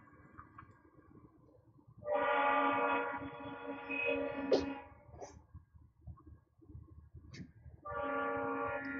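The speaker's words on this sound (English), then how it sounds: "Twice a day, my personal train rolls through." A train rolls past with a loud, sustained horn blast lasting a couple of seconds, then a second blast after a pause, over a steady rumble of rail cars, with no talking.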